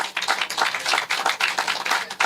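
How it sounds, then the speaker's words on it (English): Lively audience clapping at a garden launch event, a fairly close crowd of hands giving quick, irregular claps that swell and dip in uneven bursts. "let us give a hearty clap to the guys from TPDCO"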